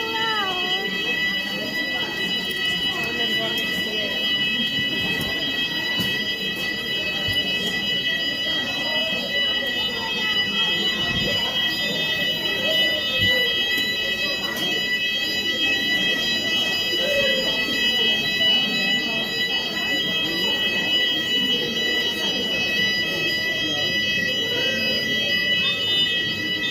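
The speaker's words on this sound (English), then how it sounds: "Fire alarm in Tesco. Everyone need to evacuate." Fire alarm in a Tesco store, a continuous piercing high-pitched tone sounding steadily throughout at a moderate distance, with faint voices and shuffling beneath it.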